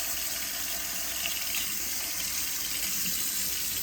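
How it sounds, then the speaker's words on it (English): Tap water runs steadily from a faucet over a sealed remote control, a continuous close hiss and splash at even loudness throughout, with no voices. "Run it under the water here."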